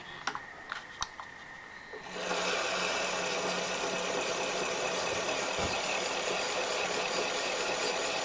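A homemade drill gear box starts after a few light taps and clicks, then runs with a steady loud whirring and rattling mechanical drone, with no talking.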